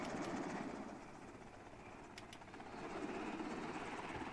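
Helicopter rotor beating steadily in the Arma 2 video game, a loud continuous whirring drone with engine roar that swells and dips slightly, heard alone.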